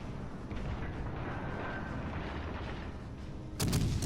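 Naval guns boom in a World of Warships-style game battle around the cruiser Worcester and the battleship Iowa, with a continuous rumbling roar of gunfire and distant impacts. A louder blast comes at the end.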